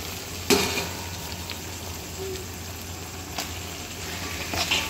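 Roasted semolina sautés with softened tomatoes in a pan for upma, a low steady sizzle with the occasional scrape and clink of a spoon against the metal.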